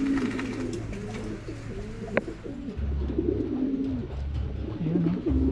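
Several pigeons coo close by in overlapping, rolling calls that continue steadily throughout, with a faint background hum and no talking.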